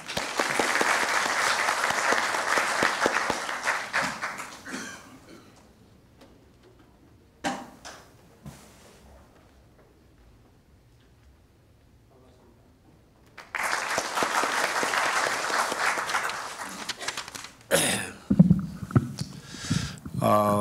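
Audience at a Korean transportation research forum opening ceremony applauding to welcome a speaker, two bursts of dense clapping separated by a quiet stretch with scattered small noises and brief voices.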